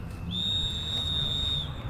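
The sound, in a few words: whistle blown warning of approaching rally car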